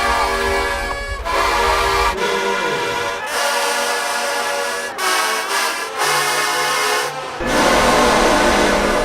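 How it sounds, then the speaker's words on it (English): HBCU marching band trombone section playing train-horn chords, loud and sustained, with several long blasts broken by brief gaps and slide swoops between them. "those train chords that trombone sections love to play"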